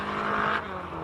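An endurance race car entered in the Simola HillClimb roars past at close range, its engine loud and steady for about half a second before dropping off.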